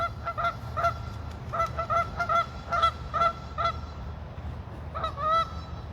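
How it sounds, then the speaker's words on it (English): Waterfowl at a park pond call in a rapid series of loud, nasal honks and quacks, repeated in bursts, close by, with no talk over them. "There's some mallards."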